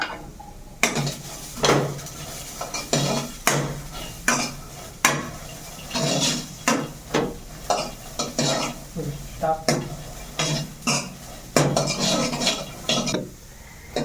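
Cluster beans fry in oil in a pan while a spatula stirs and scrapes in a steady rhythm, with repeated metallic strokes about once a second over a constant sizzle.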